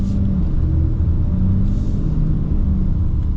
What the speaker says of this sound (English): I love that Cummins chugging sound.